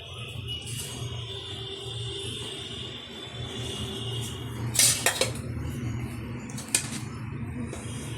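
Cooked pulao being served onto a plate, with a few light clinks and scrapes of a serving spoon against the dish over a steady low background hum.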